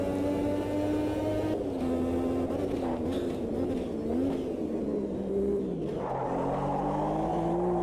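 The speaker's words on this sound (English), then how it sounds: "I remember that turbo is so aggressive when it finally kicks in" A turbocharged race car in Automobilista 2 drones close and loud, its engine pitch climbing and dipping through gear changes and throttle shifts under steady acceleration.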